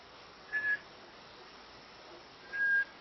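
Two short, faint whistles sound in quiet Michigan woods, each under half a second and spaced about two seconds apart over a steady background hiss.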